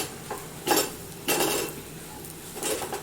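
A spoon stirs garam masala and curry leaves in a pan, giving three distinct bursts of metallic scraping and clinking against the pan over a low background, with no talking.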